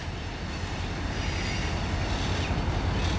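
A CSX local freight train hauling covered hoppers rolls past with a steady, loud rumble of wheels and cars; no voices are heard over it.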